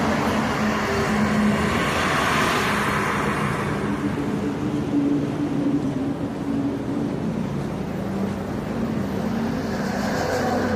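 A car drives along a road, its steady engine hum and tyre rumble filling the cabin at an even level for the whole stretch, with no talking.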